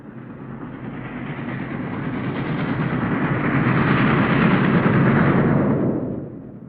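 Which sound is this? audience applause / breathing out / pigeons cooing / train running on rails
train running on rails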